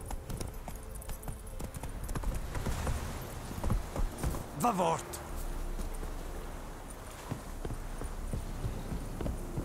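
Horse hooves clip-clopping at a quick pace in the video game The Witcher 3: Wild Hunt, set in White Orchard, steady and close under spoken dialogue and background music.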